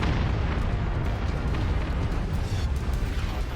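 Artillery explosions in MechWarrior 5, the mech combat game: a continuous heavy roar of booming blasts and rumbling impacts, loud and dense throughout with no pauses.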